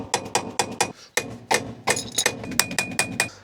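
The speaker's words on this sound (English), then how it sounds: "we should just be able to hammer that out" Repeated sharp metal-on-metal hammer blows knock a pin out of a Western Star dump truck pedal, about a dozen ringing strikes in uneven bursts, close and loud.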